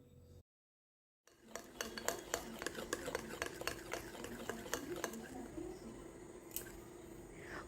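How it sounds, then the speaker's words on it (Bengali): Semolina batter whisked briskly with a spoon in a bowl, a steady run of quick clinking and scraping strokes close up, with no talking. "এবার সুজিটাকে খুব ভালো করে এইভাবে চামচ দিয়ে ফেটিয়ে নিতে"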